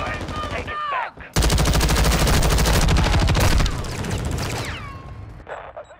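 Sustained light machine gun fire in Call of Duty Modern Warfare II, a loud dense burst of rapid rounds lasting a few seconds, followed by quieter trailing fire and game effects.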